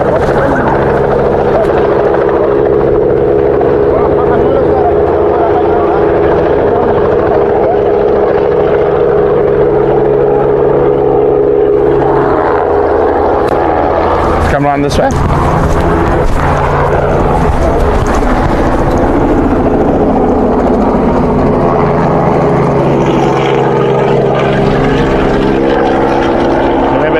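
A helicopter's rotor and engine drone loudly and steadily nearby during a rhino relocation in the bush, with the thrum shifting partway through as it moves. Someone speaks briefly over the noise.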